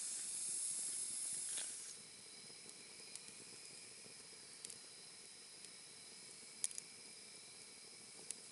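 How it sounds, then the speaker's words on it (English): Wet wood and root sizzling in a campfire, a faint steady hiss and steam noise with a few small crackles and pops, quiet and continuous. "You can hear that sizzling because some of that wood is certainly"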